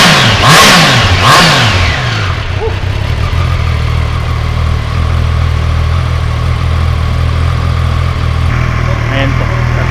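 A Triumph Tiger Sport 660 three-cylinder motorcycle with an underbelly exhaust revs sharply twice near the start, then settles into a steady, close idle for the rest of the clip.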